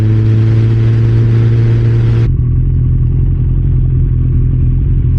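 A Kawasaki Ninja ZX-14R motorcycle fitted with slip-on exhausts runs with a loud, steady, deep engine note close by. Partway through, the tone shifts lower and the sound continues without pause.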